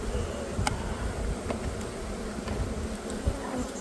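Disturbed honey bees swarm at the front of a hive, giving a dense, steady buzzing hum close by with occasional sharp clicks.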